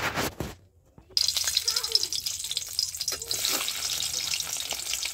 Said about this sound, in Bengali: এবারে আমি চিংড়ি মাছগুলো ভেজে নিচ্ছি।